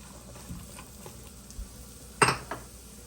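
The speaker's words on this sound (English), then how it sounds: "We can hear that sizzle in there." Chopped celery hits a hot pan, bringing a quiet sizzle, a few soft utensil clinks and one sharp metallic clatter partway through, with no talking.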